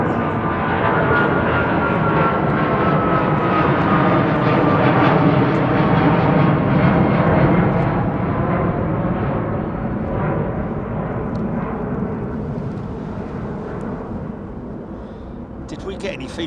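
Rolls-Royce Trent-powered Airbus A380 departing Heathrow, a loud, sustained roar of jet engines at close range that holds steady for most of the run, then slowly fades.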